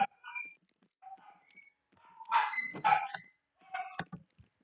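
Dogs bark in the background of a home setting, in several short bursts of yips and barks with quiet gaps between them, at moderate to faint loudness.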